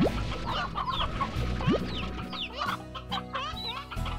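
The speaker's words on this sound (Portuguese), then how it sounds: "E eu vou pegar umas galinhas daqui." Chickens cluck close by in the video game Slime Rancher. Several short clucks and squawks come in a quick irregular run, mixed with bright game chimes and effects.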